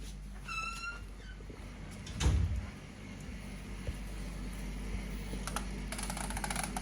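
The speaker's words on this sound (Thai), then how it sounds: "เล่นกับแมว" A cat meows a few short times near the start over a steady low background hum, followed by a soft thump and faint rattling; no speech.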